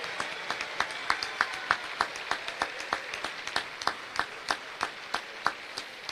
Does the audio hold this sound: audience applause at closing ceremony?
yes